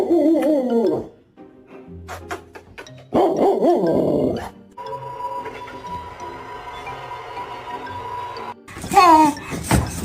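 A dog growls and barks in several loud, close bursts separated by short pauses, with growling tones rising and falling and a sharp flurry near the end.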